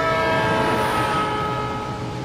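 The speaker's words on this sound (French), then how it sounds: "vous entendez la fréquence du sifflement diminuer petit à petit." A loud, sustained train horn with steady harmonic tones over rumbling rail noise, slowly fading and falling in pitch as the train moves away.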